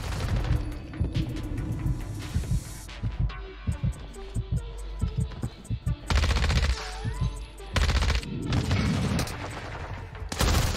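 DMR rifle gunfire in Warzone Resurgence, loud sharp shots in quick irregular bursts over game music and effects, with dense volleys toward the end.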